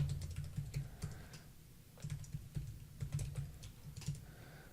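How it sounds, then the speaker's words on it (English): Keys on a computer keyboard clatter in a quick, steady run of soft taps as commands are typed, close by and alone with no voices. "Not very complicated commands I'm about to type."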